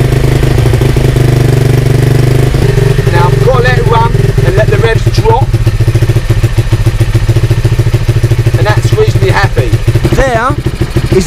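A four-stroke motorcycle engine with a carburettor idles close by, loud and clattering with a steady thumping pulse while a person talks briefly over it.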